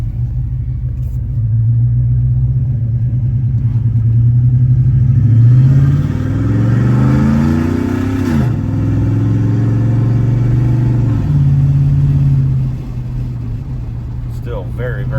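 GMC Sierra truck exhaust roaring loud and close with the cutout partially open, a deep sustained drone that rises and swells as the engine revs up, then settles back to a steady rumble.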